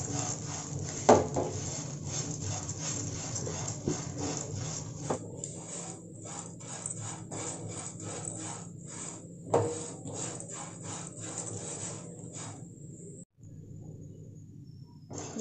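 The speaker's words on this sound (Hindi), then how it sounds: "हम इन दोनों को मिला के अच्छी तरह से भून लेंगे।" Half a cup of urad dal is stirred in a pan over a medium gas flame with dry rustling, scraping strokes that come close and steady, then stop near the end.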